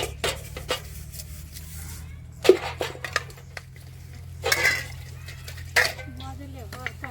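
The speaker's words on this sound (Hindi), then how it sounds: "बर्तन सब मांज ले छी।" Dishes, pots and pans being scrubbed and washed by hand, with scattered metallic clinks and clatters over a steady low hum while a person talks nearby.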